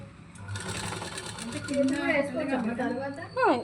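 A sewing machine stitches around the arm opening of a baby frock, a steady fast mechanical whirr running throughout, fairly close, while someone talks over it.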